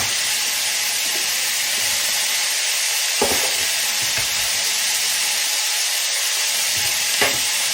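Onions frying in grease in a pan, a steady broadband sizzle filling the whole stretch, close and even, with a couple of sharp utensil knocks as they are spread and stirred; no talking.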